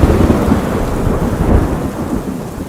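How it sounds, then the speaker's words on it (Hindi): Steady rain pours through a forest while rolling thunder rumbles close and heavy, a dense, continuous roar with no voices. "जंगल में कुछ समय से बारिश चल रही है।"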